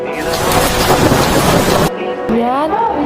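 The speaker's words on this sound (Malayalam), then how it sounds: "അപ്പോഴത്തേക്കും ഇവിടെ ആലിപ്പഴം വീണു" Hail and rain pelt down in Changanassery, Kottayam, as a loud, dense roar that stops abruptly after about two seconds. A voice follows, speaking.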